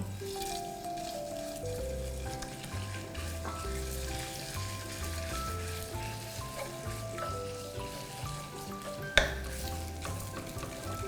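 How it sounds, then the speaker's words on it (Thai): Minced fresh shrimp stir-frying in hot oil for shrimp chili paste, a soft, even sizzle with a single sharp clack of a utensil near the end, over quiet steady background music. "เราจะผัดไปเรื่อยๆจนกระทั่งกุ้งสุกนะคะ"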